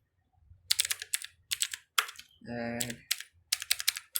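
Someone types on a computer keyboard in quick bursts of clicking keystrokes, close and clear, with a brief spoken word in the middle.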